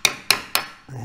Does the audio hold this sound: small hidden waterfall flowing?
no